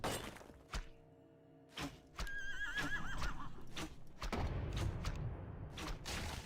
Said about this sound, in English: They're fighting a big horse.